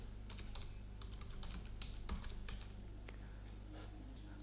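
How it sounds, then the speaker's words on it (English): Quiet, quick typing on a computer keyboard while entering an AutoCAD variable, an irregular run of light clicky keystrokes over a steady low hum. "So I type mode macro using the keyboard."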